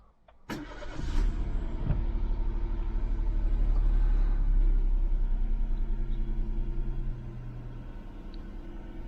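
A Toyota Aygo X engine cranks and catches with a sharp burst, then settles into a steady, close, low idle rumble that holds for several seconds without any talk.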